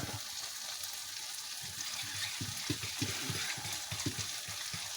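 Green peppers, tomatoes and onions frying in a pan for an omelette, a soft continuous sizzle with occasional small pops and crackles, fairly quiet and with no talking.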